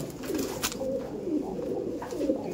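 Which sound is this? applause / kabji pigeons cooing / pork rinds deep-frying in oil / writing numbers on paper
kabji pigeons cooing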